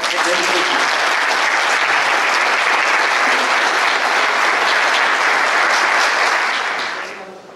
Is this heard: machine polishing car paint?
no